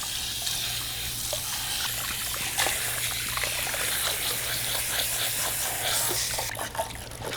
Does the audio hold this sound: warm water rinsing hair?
yes